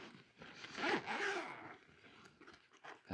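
A zipper pulled open on the carry case of a Neewer NL660 LED light, two close rasping runs about half a second apart with faint rustling of the bag after, no talking.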